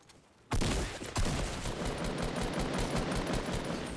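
Fortnite gunfire kicks in abruptly as a dense, sustained burst of rapid automatic shots, loud and continuous with a brief stutter near the start, then holding steady.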